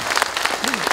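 Audience applause at a Korean police veterans' association general assembly, a dense, loud wash of clapping with a voice briefly audible over it.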